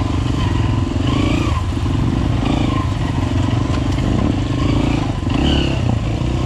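A Minsk X250 motorcycle tears around a race track, its engine loud and close with a steady buzzing drone, brief dips as the throttle eases, and rattling, scraping mechanical noise throughout.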